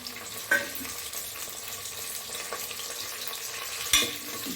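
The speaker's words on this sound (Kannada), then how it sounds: "ಈರುಳ್ಳಿನ ಒಂದೆರಡು ನಿಮಿಷ ಉಟ್ಕೋತಾ ಇದ್ದೀನಿ ಈಗ ಇದಕ್ಕೆ ತೊಂಡೆಕಾಯಿನ ಹಾಕ್ಕೋತಾ ಇದ್ದೀನಿ" Ivy gourd pieces frying in oil with onions while being stirred, a steady close sizzle with two sharper scrapes of the utensil against the pan.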